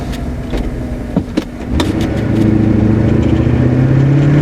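A 1984 Cadillac Eldorado Biarritz accelerating with the pedal floored: a few clicks and knocks, then the engine note rises into a loud, steady rising drone as speed builds, heard close from inside the car.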